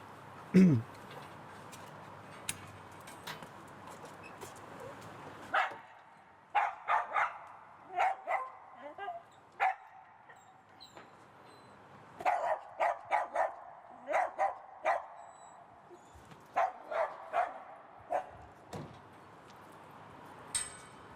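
A dog barks outdoors in a series of sharp, loud barks and yips, coming in bursts with pauses between them, mixed with some background noise and brief human voices.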